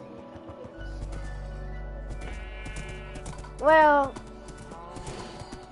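A horse in the Minecraft video game whinnies once in a loud burst midway, among game clicks and low hum, with someone talking before and after.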